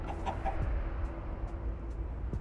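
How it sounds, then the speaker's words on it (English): A chicken clucks in Minecraft: Story Mode, a few quick close clucks early on, then softer scattered sounds over a low game ambience. "But that clucking thing is what we came for!"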